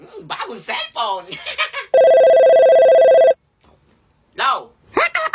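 Cellphone ringing with a steady electronic ring tone for just over a second, loud and close, between bursts of lively talk and laughter.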